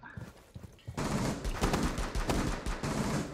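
Rapid gunfire from a first-person shooter game crackles in a dense burst of closely spaced shots, loud and sustained after a quieter opening.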